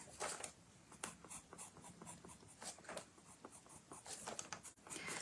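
PanPastel worked onto pastel paper, heard as close, irregular scratchy rubbing and brushing strokes in short bursts, faint overall with small pauses between passes.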